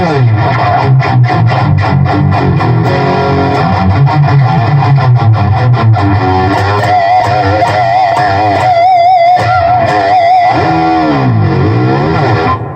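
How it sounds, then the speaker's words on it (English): Electric guitar played through an Ibanez TS808 Tube Screamer overdrive distortion, a steady run of chugging chords and sustained lead notes, loud and continuous with no talking. "Brown Sound Ibanez TS808 distortion with tube screamers."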